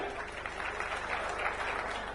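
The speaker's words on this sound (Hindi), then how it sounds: "एक बार जोरदार तालियां" Steady applause from a crowd at a public district event in Kawardha, India, dense clapping at an even level throughout, with no voices standing out.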